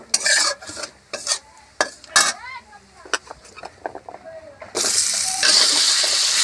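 Potato, radish and beans stirred into hot oil, with scraping and clattering strokes at first, then a loud, steady sizzle of frying taking over near the end.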